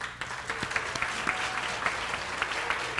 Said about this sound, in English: everyone join me in giving them a round of applause